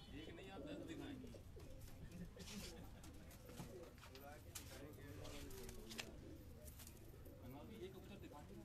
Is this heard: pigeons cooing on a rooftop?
yes